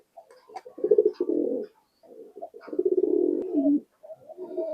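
High-flying pigeons coo in a loft in repeated low, throaty phrases, close by, with brief pauses between the rolling calls.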